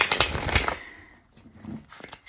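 A quick burst of papery riffling as a deck of cards is shuffled, followed by a softer pause and faint handling.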